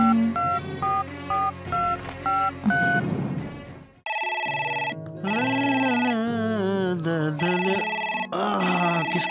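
An incoming-call ringtone from a telephone, loud and close: short repeated melodic beeps, a brief pause, then a longer warbling electronic tune that sustains without speech.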